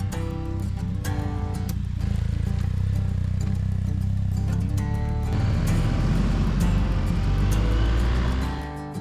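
Motorcycle riding on a highway between Sturgis and Rapid City during a motorcycle rally, a loud continuous engine rumble with wind noise and shifting pitch throughout.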